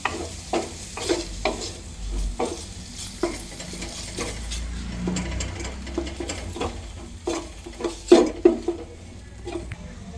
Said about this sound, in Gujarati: આવી રીતે માવાને શેકવાનો છે ધીમા ધીમા તાપે